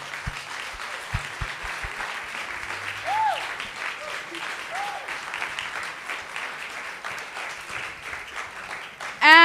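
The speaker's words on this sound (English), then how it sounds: "I want to give a round of applause in advance to Batch 148" Applause from the audience at a coding bootcamp demo day in Lisbon rolls on as a steady, moderately loud clatter of many hands, with a few scattered voices and a louder sound at the very end.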